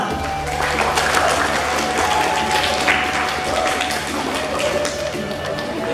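Workshop attendees clap together in a moderately loud round of applause, with distinct individual claps audible over a low hum, lasting several seconds.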